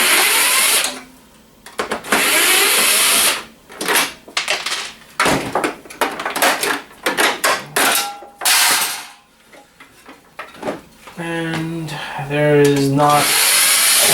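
A power screwdriver whirs in repeated bursts while taking screws out of a scrap metal housing, with ratcheting clicks and metallic rattles close by and someone speaking briefly between bursts.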